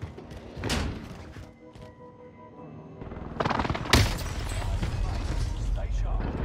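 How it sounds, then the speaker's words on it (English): In the Warzone Rebirth game, an enemy precision airstrike brings heavy thuds and booming explosions, quieter at first and then louder and denser, with one sharp blast partway through and rumbling impacts after it, under occasional voice chatter. "Enemy precision airstrike."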